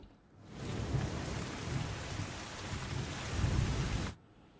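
A loud burst of heavy rain pours down in Surat for about four seconds, with deep rumbling swells like distant thunder, then cuts off abruptly.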